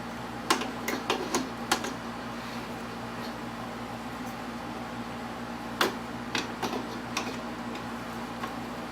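Vacuum tubes pushed and twisted into the sockets of a 1920s battery radio make crisp, close clicks, a quick cluster early on and another a few seconds later, over a quiet background hum.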